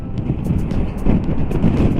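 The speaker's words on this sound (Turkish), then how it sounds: "kaska çarpan dışarıdaki rüzgar sizlere ulaşıyordur" Steady, heavy wind roar buffets a motorcycle helmet while riding a scooter, a low rumbling rush with faint intermittent ticks above it, no talking.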